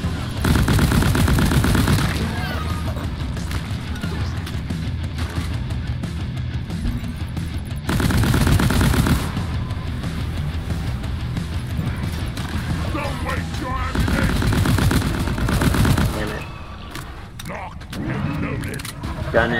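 Rapid gunfire in the video game Deep Rock Galactic, dense loud bursts of automatic shots and blasts filling most of the stretch, with brief lulls and players' voices talking over the action.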